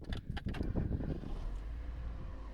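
An old, never-rebuilt Holden JE Camira engine cranks with a few rough jangly clicks, catches, and settles into a low, steady idle rumble close by.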